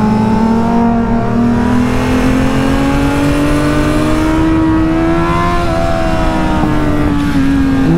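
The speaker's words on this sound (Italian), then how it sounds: "dacelo sto gas, Teo." A loud, close motorcycle engine rises steadily in pitch, from a Kawasaki Z800 and Yamaha R6 comparison, with no talk over it.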